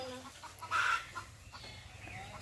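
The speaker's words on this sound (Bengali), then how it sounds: "চাচাতো বোনের মুরগির ফার্ম।" Faint clucking of chickens at a poultry farm, a brief louder cluck standing out against a quiet, murmuring background.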